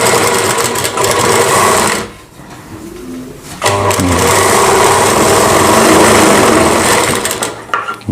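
A sewing machine stitches a Rajputi suit kurti in loud, rapid bursts. It runs for about two seconds, pauses briefly, then resumes for a longer continuous run, close up.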